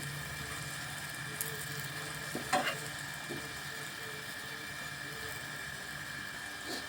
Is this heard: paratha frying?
yes